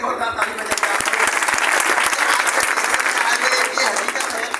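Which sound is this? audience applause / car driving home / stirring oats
audience applause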